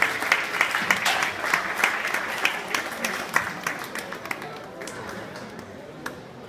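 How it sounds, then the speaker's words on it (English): An audience at a sheep shearing demonstration in Perth claps for the shearer, a lively round of applause with distinct individual claps that gradually thins and fades, with some talk mixed in. "Let's give him a clap"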